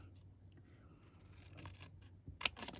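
Hand snips cut out a traced paper pattern for a wheelbarrow, making quiet close scraping snips that build to a sharper crisp cut near the end.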